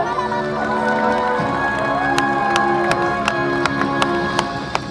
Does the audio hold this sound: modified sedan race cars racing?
no